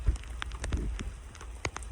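Rain falls outdoors onto a newly built brick back-ledge on a barn, a soft steady hiss dotted with scattered close drop taps, quiet, with no talking.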